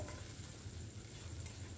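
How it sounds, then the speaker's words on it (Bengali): Chopped onion frying in a small amount of oil in a pan for a potol (pointed gourd) dish, giving a faint, steady low sizzle with soft hiss throughout. "এবার পেঁয়াজটা অনেকটা ভাজা হয়ে গেছে।"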